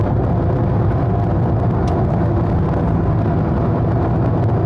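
Steady low exhaust drone from an RWB Porsche 911 (997) cruising at highway speed, a constant loud rumble with road and wind noise and no voices.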